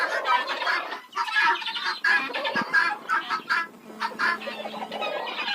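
A flock of guinea fowl chattering and clucking nearby as they come indoors out of the cold, busy overlapping calls with a few sharper notes, continuous throughout.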